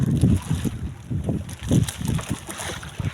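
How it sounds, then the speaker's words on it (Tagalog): Strong gusts of wind buffet the microphone in low, rumbling bursts under cloudy skies, with faint water and boat sounds in the background. "Maulap. Malakas na yung hangin."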